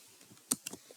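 A few isolated keystrokes on a computer keyboard while entering a word into a spreadsheet cell: one sharper click followed by a couple of lighter taps, quiet and close with no talking.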